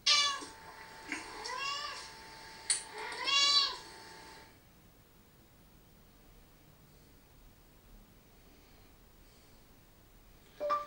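A house cat meows several times up close in the first few seconds, with rising, drawn-out calls, then goes quiet apart from faint rustling and one more short meow at the very end.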